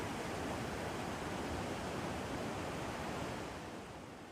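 Floodwater from a monsoon cloudburst surges through Mandi in Himachal Pradesh, a loud, dense, unbroken roar of torrential water that holds steady and then eases slightly toward the end, with no voices.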